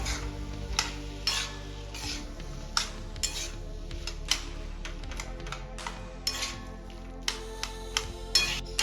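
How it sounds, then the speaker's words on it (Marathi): Mashed potato samosa stuffing is stirred in a pan, with repeated spoon scrapes and clinks against metal over a low steady sizzle. "इथे मी सर्व बटाटे मॅश करून घेतलेले आहे आता आपण एकदम मिक्स करून घेऊया"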